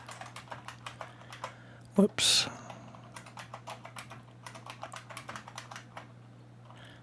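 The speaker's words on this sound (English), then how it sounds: "Let's see here if I can reach the keyboard." Someone types on a computer keyboard, a quick close run of key clicks in short bursts, with a louder clatter midway and someone speaking briefly.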